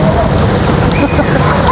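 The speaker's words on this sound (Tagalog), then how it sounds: "Ayan, umuulan, no?" Rain pours during an evening walk at Zawaya Walk in Sharjah, a loud, steady wash of drops close by with a voice talking faintly over it.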